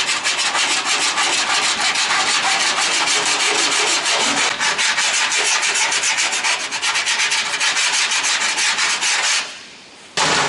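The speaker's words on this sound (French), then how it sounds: "mets un bon coup de lime" A hand file rasps across the metal door of a Citroën Traction 11B car in steady, dense back-and-forth strokes, loud and close, before stopping abruptly near the end.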